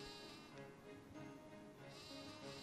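Sheep bleating in the Harvest Moon video game: a few wavering, nasal bleats over about three seconds, fairly close and quiet, with no talking.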